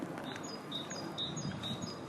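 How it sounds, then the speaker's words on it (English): Birds chirp and tweet in short, repeated calls over a soft outdoor background hiss, fairly faint and at some distance. "Can you hear the birds? Sounds cool"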